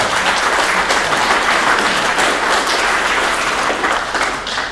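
Applause at a regular meeting: a room full of people clapping steadily and fairly loudly for several seconds, with a dense, even texture and no break.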